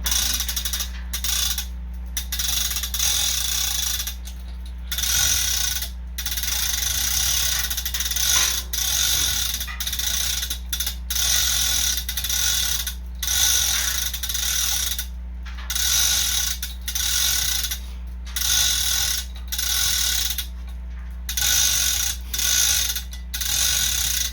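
A hand ratchet clicks steadily while loosening bolts during the teardown of a Steinway grand piano, loud and close in repeated bursts with short pauses between strokes, over a constant low hum, with no voices.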